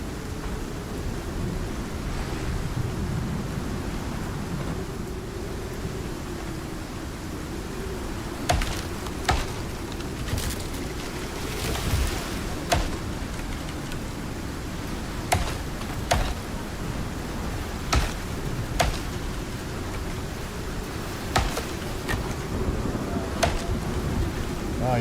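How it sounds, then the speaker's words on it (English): Steady rain hisses outside while distant thunder rumbles low through a storm, with scattered sharp cracks and knocks punctuating the constant wash of noise. "Oh, I do hear some thunder."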